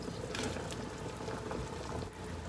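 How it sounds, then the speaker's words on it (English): Natto-jiru soup simmers in a pot, a continuous close bubbling and popping like light rain on a surface, even in level and moderately quiet, with no voices. "Then simmer for about 5 minutes."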